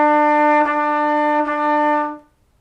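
A trumpet plays one steady, sustained note with unbroken airflow, articulated into short segments by two soft tongue breaks, then stops cleanly.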